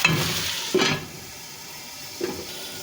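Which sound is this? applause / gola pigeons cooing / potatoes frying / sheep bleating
potatoes frying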